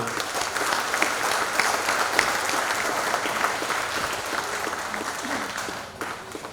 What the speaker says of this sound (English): let's give a nice round of applause to that end of the table